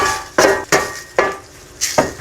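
A spatula stirs chopped sayote with seasonings in a pan, giving four or five distinct scraping clacks at uneven intervals over a faint background sizzle, close and fairly loud.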